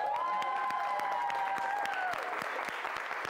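A crowd of students at a school in Africa claps steadily in dense, continuous applause, with a thin whistle-like tone running through the first two seconds.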